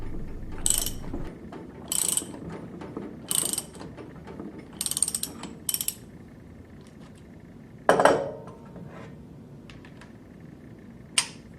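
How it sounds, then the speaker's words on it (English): Torque wrench and deep bore socket tightening a lock nut on the shaft of a Viking high-speed gear pump, heard as a series of short ratcheting clicks in separate bursts, with one sharper final snap near the end and no talk. "Install the lock nut and tighten to the appropriate torque setting using a deep bore socket and torque wrench."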